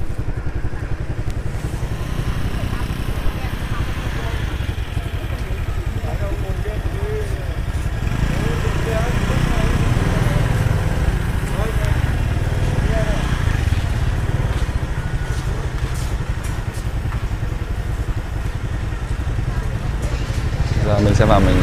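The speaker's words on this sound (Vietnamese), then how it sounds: "Đây là chỗ để xe máy này." Motorbikes fill a crowded temple parking area during the Lunar New Year holiday in Thái Bình, with engines idling and revving steadily throughout, under a busy crowd and a voice talking nearby.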